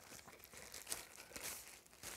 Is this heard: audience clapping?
no